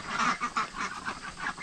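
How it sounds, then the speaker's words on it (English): Ducks on a farm honk and quack in a rapid, repeated series of loud nasal calls, close by and alone without talk. "Look at these ducks."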